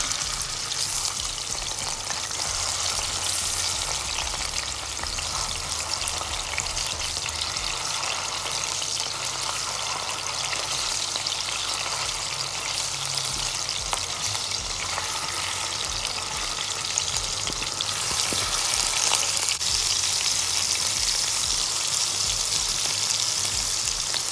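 Chicken muthi kababs shallow-frying over a medium flame in a karahi, a dense, steady crackling sizzle of hot oil that continues evenly throughout at close range.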